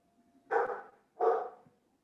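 A dog barks twice indoors, two short, close, moderately loud barks about half a second apart with quiet between.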